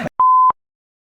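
A single loud, pure censor bleep tone added in editing to a podcast recording, lasting about a third of a second and following a brief cut-off bit of voice, then silence.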